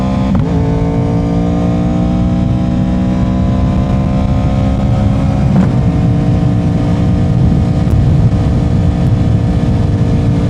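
A 2021 Yamaha R1 sport motorcycle rides along a road. Its engine whine holds loud and steady under heavy wind rush, with no speech.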